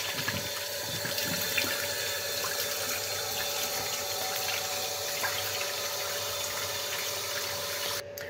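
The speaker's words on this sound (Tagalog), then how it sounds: "maghugas lang po tayo ng ating mukha" Tap water runs steadily into a sink while a face is washed during a morning routine, a constant close splashing hiss that stops abruptly at the end.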